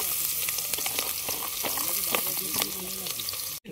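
Vegetables fry in hot oil at an outdoor creek-side party meal, a dense close sizzle with stirring clinks running steadily throughout before a sudden brief break near the end.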